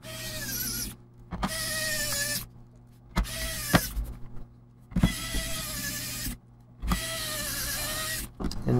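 Screws are driven into a laptop during a hinge repair by an electric driver. Its motor whirs in four separate bursts of several seconds each, close and fairly loud, with short quiet gaps and small clicks between them.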